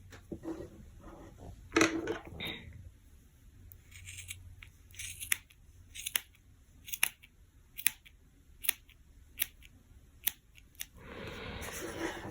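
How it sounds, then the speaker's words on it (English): Scissors snip repeatedly through tassel strands, sharp crisp cuts spaced irregularly, close up, with some rustling before and after. "You can go ahead and trim them with your scissors"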